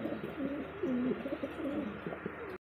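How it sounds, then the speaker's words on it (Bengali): A large, vigorous male pigeon coos in a steady series of soft, rolling calls close to the listener, with no talk over it. "একদমই কিন্তু বিগ সাইজে, খুব তেজা কবুতর"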